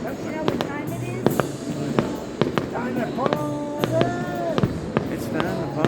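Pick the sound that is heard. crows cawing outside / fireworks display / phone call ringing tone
fireworks display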